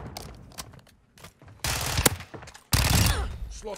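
Bursts of automatic gunfire from Call of Duty Modern Warfare 2, loud and close, with a sparse stretch of scattered shots before two dense sustained volleys, and a voice briefly heard among them.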